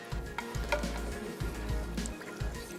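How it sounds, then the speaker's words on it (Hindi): Beef frying in a pan with garlic ginger paste, a soft continuous sizzle broken by regular low thumps and scrapes of stirring, fairly quiet and close. "ये क्या लहसुन अदरक का पेस्ट को अच्छे से भूनेंगे"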